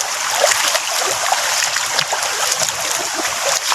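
A small stream in a creek trickles and babbles steadily, a continuous bright watery rush close by with no voices.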